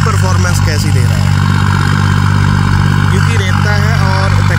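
A steady, loud low drone comes from a modified tractor engine working a small, dry, sandy field, running continuously while someone speaks over it.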